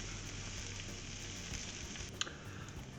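Garlic and shallot frying and browning in a pan ahead of risotto rice, giving a steady, even sizzle that stays close and holds level throughout, with one small clink near the end.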